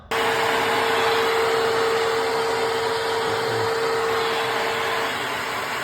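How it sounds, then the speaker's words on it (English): A Hoover vacuum cleaner running in a house loft during electrical work, a loud steady whine with a constant tonal hum that starts abruptly and holds for several seconds without talk. "If we leave that hoover up here, we can hoover those fixings over there, can't we?"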